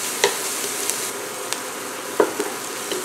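Sliced onions sizzle and cook down in a skillet for a cheeseburger pasta dish, a steady close frying hiss broken by a few sharp scrapes and taps of stirring.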